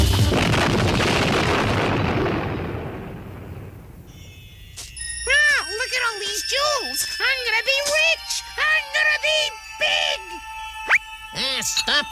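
A cartoon bottle packed with fireworks explodes in a loud rumbling blast that fades over a few seconds, followed by whistling, boinging and tinkling cartoon sound effects mixed with voices.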